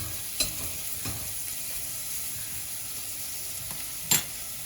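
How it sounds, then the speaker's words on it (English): Onions sautéing in a pan for a broccoli and sour cream soup, with a soft continuous sizzle broken by a few sharp stirring clinks and scrapes. "So I'm just going to saute that off. Just get the sweetness out of the onions."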